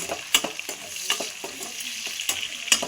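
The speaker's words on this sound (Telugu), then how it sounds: "ఇదే నూనెలో ఉల్లిపాయ కూడా మగ్గాలి" Onions and curry leaves frying in hot oil for a dry fish tomato curry, a steady close sizzle broken by sharp scraping stir strokes about every half second, with no talk.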